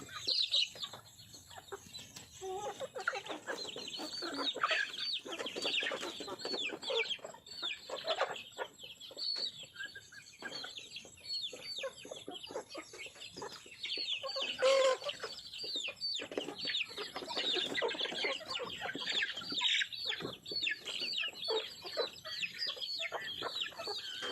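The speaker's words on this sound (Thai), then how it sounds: "น้องไก่เลย" Several chickens cluck and cackle close by in a farmyard, a busy run of overlapping clucks with occasional louder calls, steady throughout and no talk.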